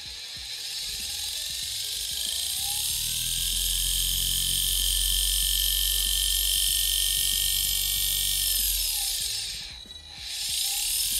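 An electric motor run by a homemade MOSFET speed controller whines with a high tonal pitch that rises, holds steady, and then drops and restarts near the end.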